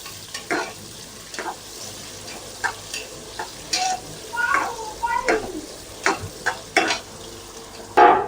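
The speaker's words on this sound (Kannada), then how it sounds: "ಆನಿಯನ್ ಹಾಕಿ ಸ್ವಲ್ಪ ಫ್ರೈ ಆಗೋದು ಬಿಡೋಣ." Onions sizzling and being stirred in a pan for Karnataka donne biryani, with steady frying hiss broken by repeated clanks and scrapes of a spoon against the pan, close up.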